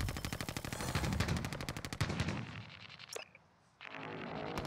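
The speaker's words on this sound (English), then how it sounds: "Oh, taking more shots." Rapid automatic gunfire in the battle royale game Call of Duty Warzone, Plunder mode: dense bursts of machine-gun fire for about two seconds, then scattered shots, a sharp crack and a brief lull before the firing noise resumes.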